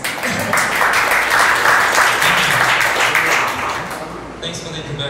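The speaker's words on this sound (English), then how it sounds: "round of applause." Audience applause fills a conference hall at a talk on the Apache Flink stream processor, a dense, steady wash of clapping lasting several seconds and fading slightly near the end.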